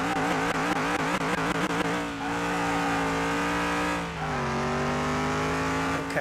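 A car's engine revs hard in Car Mechanic Simulator 2021, climbing through rapid gear changes in a loud, close, rising whine, then settling into a sustained high-pitched drone that dips briefly as it shifts again.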